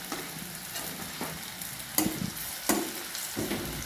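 Red chili powder, turmeric, garam masala and coriander powder sizzle in hot oil beside tinda vegetable in a pan, with a steady frying hiss broken by several distinct scraping stirs of a spoon.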